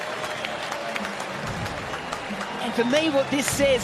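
A stadium crowd cheers and applauds at a T20 cricket match between West Indies and World XI, a steady roar running throughout beneath a commentator's voice, swelling louder near the end.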